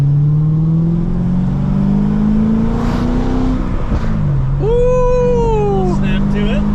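Stock-cam LS V8 in a C6 Corvette ZR1 with modified exhaust revs loudly, a sustained droning roar that climbs and falls in pitch, with a high whine rising over it near the end.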